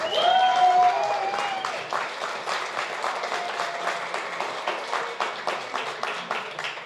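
A wedding reception crowd applauds the couple in a full, dense burst, with cheering voices rising at the start, then thinning to scattered individual claps that taper off.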